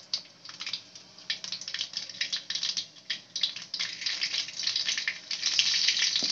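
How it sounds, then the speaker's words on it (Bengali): Black cumin seeds and split green chillies crackle and sizzle in hot oil left from frying pomfret, a busy run of close, sharp spatters building steadily louder toward the end. "এবার আমরা ওই ভাজার তেলের মধ্যেই ফোড়ন দিয়ে দেবো।"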